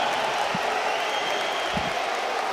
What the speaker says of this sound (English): Even FaZe fans got a cheer for that.